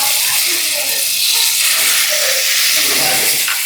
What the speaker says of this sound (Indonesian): Tumis bumbunya.